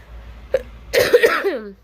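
A single harsh, close cough bursts out after a short quiet moment, rough and throaty, trailing off with a raspy tail.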